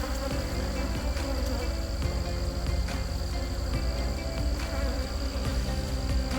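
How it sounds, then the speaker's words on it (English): Honey bees swarm and buzz around an open hive in a tree, a dense continuous drone filling the air close by with no talking. "It's getting to be a little hard to work around all these bees everywhere."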